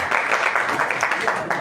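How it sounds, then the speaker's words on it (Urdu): Applause from an audience at a religious poetry gathering, a dense continuous patter of many hands clapping at once, fairly loud and sustained throughout, with a voice or two faintly mixed in. "اس بچے کے لیے تالیاں ہو جائیں ذرا"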